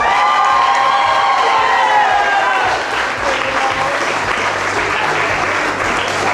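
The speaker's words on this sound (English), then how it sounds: "Please give a nice round of applause to Jamie Albright and Jason Fay." Wedding guests applaud loudly with cheers and whoops as the couple's attendants are introduced, a dense sustained roar of clapping that stays strong throughout.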